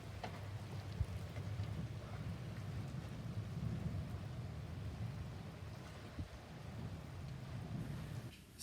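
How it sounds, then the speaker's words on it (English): Rain with thunder in Venice, a steady broad hiss of rainfall with low continuous rumbling throughout, a couple of faint knocks, no talking. "Looks like we just can't escape the rain."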